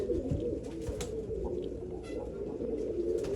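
Pure Meerab bloodline pigeons cooing nearby, soft low warbling calls repeating over a steady background murmur.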